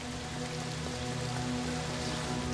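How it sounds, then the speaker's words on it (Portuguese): Steady splashing of a plaza fountain in the video game L.A. Noire, a continuous even wash of falling water with a faint tonal hum beneath, moderately loud and unbroken throughout. "Aqui estamos na praça com a fonte."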